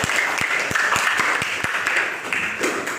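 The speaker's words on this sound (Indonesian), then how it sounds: "Ya, beri aplaus untuk Adel." Classroom audience applauding a student named Adel with a dense, steady burst of clapping from many hands, close and loud throughout.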